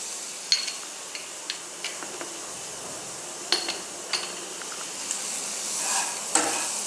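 Onions seasoned with salt and turmeric fry in a pan with a steady low sizzle, punctuated by sharp clinks and scrapes of a spoon stirring against the metal every second or so.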